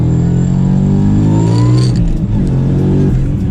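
A 2019 Ford Mustang with a manual short-throw shifter accelerating hard in first gear, its engine note climbing in a loud, close, rising drone before a brief dip at the shift.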